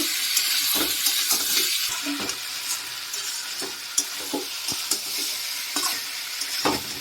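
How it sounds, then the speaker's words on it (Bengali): Fried prawns are sautéed with spices in a pan for a jackfruit prawn curry, giving a steady sizzle and hiss with repeated scraping stirs and clinks of the spoon. No one speaks. "এবার আমি ভালো করে মশলার সাথে এটা কষিয়ে নেব।"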